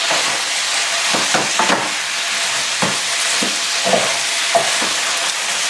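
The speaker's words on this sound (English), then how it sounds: "Now we can add broccoli for a little bit cook. We just stuff all the broccoli. We just cut into this little pan. And we start mixing them." Cut broccoli cooking in a small pan for a one-pot lemon artichoke chicken and rice dish, stirred with repeated spatula scrapes and knocks over a constant loud sizzle, no voices.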